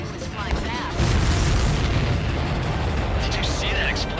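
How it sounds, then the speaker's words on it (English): A supply ship explodes in the jet combat game Ace Combat 7, a heavy booming blast that swells into a sustained roaring rumble, with a voice speaking over it near the start. "Did you see that explosion?"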